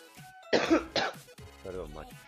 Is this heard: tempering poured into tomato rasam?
no